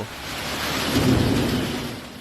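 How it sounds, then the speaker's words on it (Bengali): Dense, heavy evening rain after a long dry spell roars continuously, with a low rumble swelling through the middle like distant thunder. "দীর্ঘ বিরতির পর আকাশ ভেঙে ঝরে পড়া এই বৃষ্টি ছিল বহুল প্রত্যাশিত"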